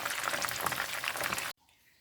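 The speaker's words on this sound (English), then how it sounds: "I'm going to continue this frying because I have more to fry" Cajun fried chicken sizzles and crackles loudly in hot oil, a dense bubbling hiss that cuts off abruptly after about a second and a half, leaving faint background.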